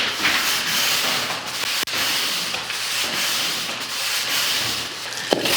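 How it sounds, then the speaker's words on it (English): Steady brushing sweeps over an old plaster wall in a Victorian house, loosening debris, with continuous scratchy rasping close by, one sharp knock midway and a brief tap near the end, no talking. "just brush down the wall one last time"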